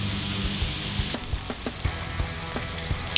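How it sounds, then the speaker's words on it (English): Pineapple rings sizzle steadily on a hot grill, a dense continuous hiss close up with a few soft ticks and pops, no voices. "drop our pineapple rings right onto the grill"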